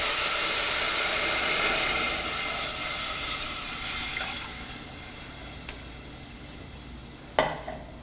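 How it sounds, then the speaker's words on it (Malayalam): Milk poured into a hot pan with crisp-fried aval for payasam hisses and sizzles loudly at first, then settles into a softer steady bubbling. A couple of sharp metallic clinks come near the end. "ഇതിലോട്ട് നമ്മൾ എടുത്തു വച്ചിരിക്കുന്ന 4 കപ്പ് പാലൊഴിച്ച് തിളപ്പിക്കുക"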